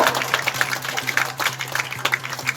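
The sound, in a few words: applause to encourage the winning girls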